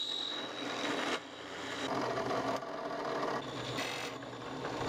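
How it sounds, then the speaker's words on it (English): Steady grinding, rasping noise of a drill press boring through wood, continuous and fairly loud, with brief shifts in pitch as pressure changes. "I'll just drill the rest out on the drill press"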